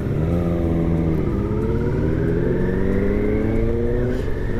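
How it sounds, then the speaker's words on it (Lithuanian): A Husqvarna 701 motorcycle rides ahead on a mountain trail in the Dolomites, its engine a steady, loud drone that slowly climbs in pitch as it pulls, heard continuously without talk. "Čia priekį važiuoja Husqvarna 701"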